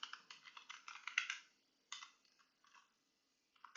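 Rapid close keystrokes on a computer keyboard as product tags are entered, a dense burst of clicks, a pause, then a few shorter typed bursts and a final tap.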